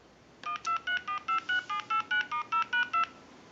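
A clear Trimline telephone redials, producing a rapid run of about thirteen crisp DTMF tone beeps in steady rhythm, loud and close with nothing else over them.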